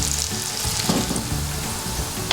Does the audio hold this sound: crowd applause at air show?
no